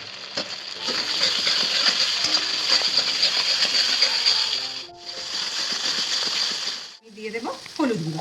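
Dried chili paste frying with dried fish (shutki) in oil for a shutki bharta, a steady loud sizzle with stirring scrapes that breaks off briefly twice, the second time with a few clinks.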